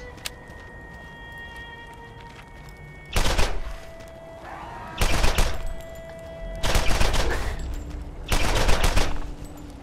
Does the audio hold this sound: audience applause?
no